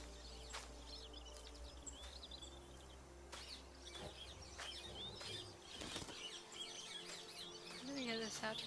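Birds chirp and tweet in a forest setting in the video game The Wild Eternal, with scattered calls and brief wing flaps over a low steady ambient hum, moderately quiet throughout.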